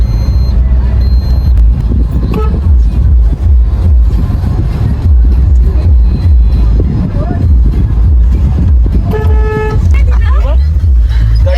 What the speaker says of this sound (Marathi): आज भरपूर ट्रॅफिक लागले